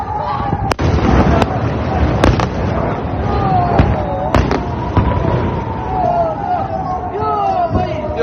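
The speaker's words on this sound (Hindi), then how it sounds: "उस मिसाइल के इंपैक्ट से लेके उसकी लॉन्चिंग तक का सारा वीडियो आप एक बार में देखें" An Iranian cluster missile strike on Tel Aviv brings loud, repeated sharp blasts and cracks over a constant roar, with rising whistling streaks and distant crowd noise beneath.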